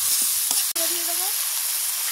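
Spice paste with chilli powder frying in a pan, a continuous bright sizzle with a brief stirring knock early on, close and steady.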